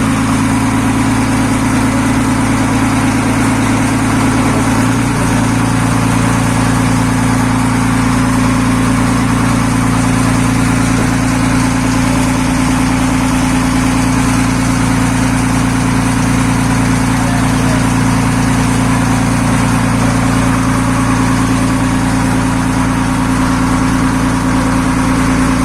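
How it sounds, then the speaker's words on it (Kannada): A boat engine runs loud and steady as the boat sets off, a constant deep droning hum with a strong tonal rumble holding throughout, close by and unbroken, with no talking. "ಇವಾಗ ನಮ್ಮ ಬೋಟ್ ಹೊರಡ್ತಾ ಉಂಟು. ಸೌಂಡಲ್ಲಿ ಕೇಳುದಿಲ್ಲ, ಇಂಜಿನ್ ಸೌಂಡ್ ಜೋರು."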